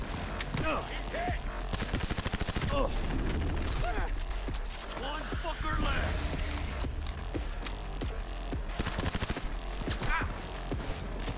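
Rapid gunfire bursts and mechanical clatter fill a Cyberpunk 2077 firefight, loud and nearly continuous with dense repeated shots, while voices speak intermittently over the action.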